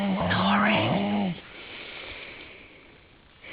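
A person snoring, one loud nasal snore with a rough throaty tone at the start, then a quiet breathy exhale trailing off into near silence.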